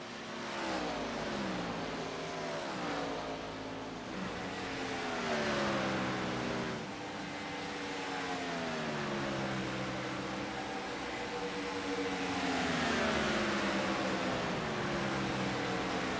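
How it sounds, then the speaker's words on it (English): A NASCAR Craftsman Truck Series truck engine in the iRacing sim on the final lap at Michigan gives a loud, sustained, high-revving whine whose pitch repeatedly rises and falls through gear changes, continuous for the whole stretch with no talking. "Let's just listen to the sound of this race car."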